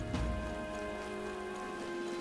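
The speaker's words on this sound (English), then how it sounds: "This bloody rain." Steady rain falling in the fantasy role-playing game Metaphor: ReFantazio, a constant soft hiss of drops on surfaces heard alone, with a thud near the start.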